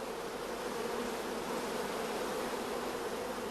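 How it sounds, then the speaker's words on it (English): Queenless honey bees in a starter colony at a beekeeping operation, a loud, dense, steady buzzing of many bees, close and continuous with no voices. "we can hear the loud buzzing of the orphan bees"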